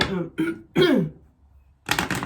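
A person clears their throat in a few rough, gravelly bursts, close and fairly loud, followed by a brief pause and another harsh rasp.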